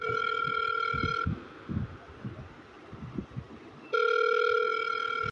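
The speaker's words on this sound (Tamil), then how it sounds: "இப்போ முதல்ல நம்ம சகலைக்கு ஃபோன் போடுவோம்" An outgoing phone call produces a steady electronic ringback tone in two long bursts, separated by a quieter gap of faint rustling and handling noise.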